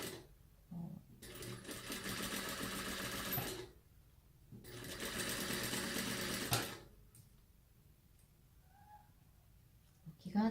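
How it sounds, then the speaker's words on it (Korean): A sewing machine stitches a zipper pouch in two loud, steady whirring runs of a couple of seconds each, separated by quiet pauses, heard close up with no talk over them. "돌려주시고 얘를 봉제를 해보도록 하겠습니다"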